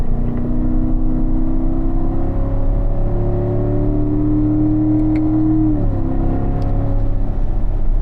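A race car accelerates out of a corner on a track, its engine droning loud and close with a steady rising pitch, then a quick dip and restart of the climb as it shifts.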